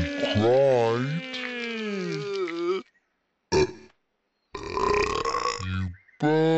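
A cartoon baby burps in a few separate bursts, the first long and voiced, followed by a short hiccup-like burst and a later gurgling one, all close and loud, with brief silences between them.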